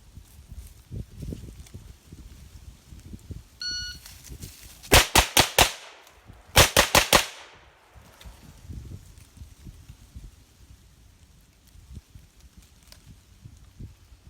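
A Zenith MP-5 clone, built by MKE of Turkey, fires two quick strings of loud, sharp, closely spaced shots during a shooting drill, with quiet shuffling and handling noises before and after.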